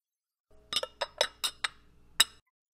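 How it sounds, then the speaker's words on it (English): A ratchet with an oil filter wrench and six-inch extension loosening the oil filter on a Harley-Davidson Road Glide, a quick run of about seven sharp metallic clicks, close and clear with no talking. "Now I'll just take my oil filter wrench with my ratchet and a 6-inch extension and begin"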